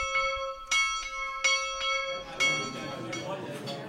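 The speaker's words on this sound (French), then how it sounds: "À Cerisy, tout fonctionne à la cloche. Celle-ci annonce le petit déjeuner." A bell at the Cerisy conference centre in France rings for breakfast, its clear metallic strikes repeating every half second or so, ringing out and overlapping into a denser clangour with faint background activity.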